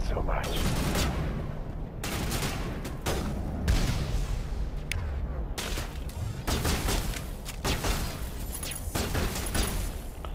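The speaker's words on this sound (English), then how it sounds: "Why are you shooting so much?" Heavy sustained gunfire in Mass Effect Legendary Edition, a dense run of loud bursts and booms with short gaps between them, and voices talking underneath.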